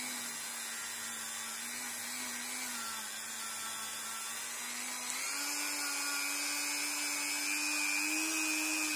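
A small rotary tool spins a chuck while polishing the frets of a Squier Stratocaster Affinity guitar, giving a thin, constant high whine close up that shifts slightly in pitch partway through.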